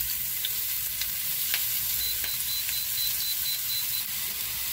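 Spices spluttering and frying in hot oil in a pan while making a spicy okra curry: a dense, steady sizzle with scattered crackling pops, close and continuous, with a faint repeating electronic beep in the background.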